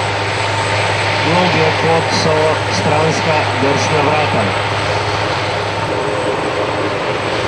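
A medevac helicopter engine runs steadily during a casualty evacuation exercise, a loud continuous drone and hum under a voice narrating in Slovenian throughout.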